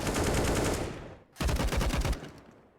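Bursts of automatic gunfire from the video game Counter-Strike on the Vertigo map, two loud rapid volleys separated by a brief pause, the second trailing off at the end.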